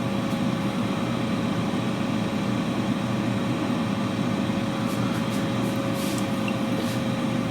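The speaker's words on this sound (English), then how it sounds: "Steak in the pan. Hey, listen how fast that good stuff is cooked too." Skirt steak sizzles in a pan, a steady, even hiss with a faint constant hum beneath it, holding the same level throughout without pause.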